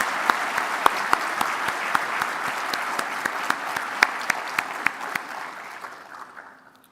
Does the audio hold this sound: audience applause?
yes